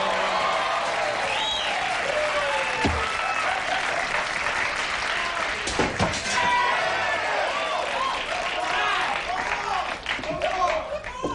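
Studio audience at a 1980s–90s late-night TV holiday show applauding loudly and steadily for about eleven seconds, a dense near wash of clapping with scattered whoops and voices in the crowd.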